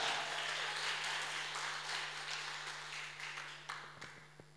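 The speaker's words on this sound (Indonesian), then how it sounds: "Tepuk tangan yang meriah bagi Tuhan." Congregation applause during a Pentecostal church worship service, a broad wash of clapping that stays fairly steady and then thins out, with a few scattered claps near the end.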